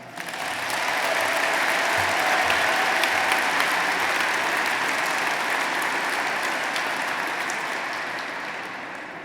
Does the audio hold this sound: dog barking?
no